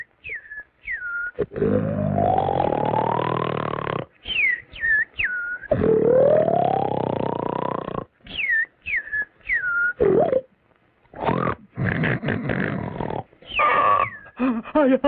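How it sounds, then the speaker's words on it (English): Repeated cartoonish snoring: long rasping inhales, each followed by a high whistling exhale, in a slow steady rhythm, loud and close. "I can't stand that snoring any longer."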